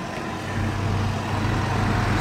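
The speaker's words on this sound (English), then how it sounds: "Sorry about the noise, because there's a lot of trucks" Heavy trucks, including Citroën vans, rumble past nearby at a market by a port, a continuous loud low engine roar with broadband road noise and no voices.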